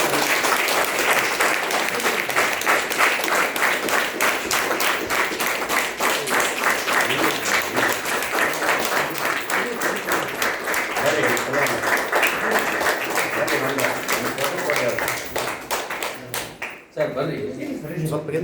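A crowd at the Vaidhya Ratna award ceremony in Hubballi claps loudly and continuously in a dense, slightly rhythmic patter that briefly dips near the end before resuming.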